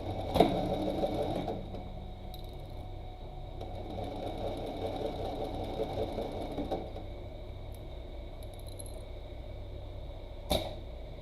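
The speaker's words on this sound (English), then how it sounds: "I took all the thread out, and now I'm going to sew." A double-needle, split-bar post bed sewing machine stitches a tote in a steady run of several seconds, with faint clicks before and after and quiet between bursts.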